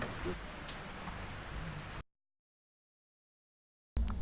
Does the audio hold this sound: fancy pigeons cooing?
no